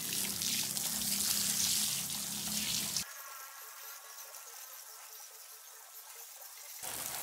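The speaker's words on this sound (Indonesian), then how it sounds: "Nah setelah airnya kering kita siram sekali lagi." Water splashes and trickles steadily onto the soil of a water spinach bed, first heavier then a thinner, gentler pour, close by with no talking.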